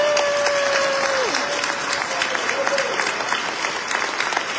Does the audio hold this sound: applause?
yes